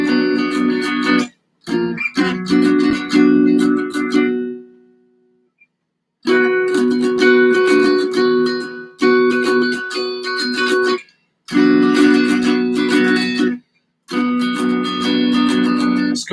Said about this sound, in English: we're going into the inside chords that sound something like this right here